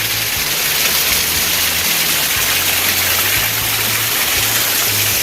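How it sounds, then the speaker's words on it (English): A steady, dense rush of a mountain waterfall on the Appalachian Trail north of Damascus roars continuously, broadband and close, with a faint low hum underneath. "it's a waterfall"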